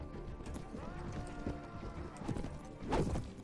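Horse hooves clip-clop in a Mount & Blade Warband battle with the Prophesy of Pendor mod, a steady mid-distance gallop under a din of fighting, with someone talking over it.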